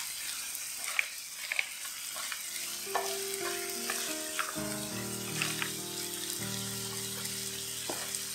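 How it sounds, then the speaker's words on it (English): Prawns and clams simmering in a black garlic seafood pasta sauce give a steady, moderate bubbling sizzle with occasional stirring clicks, heard alone over soft background music. "Let this simmer till the prawns and clams are cooked and the sauce has been reduced."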